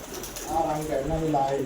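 Pigeons coo in a low, rolling series of calls, fairly close, while someone talks over them.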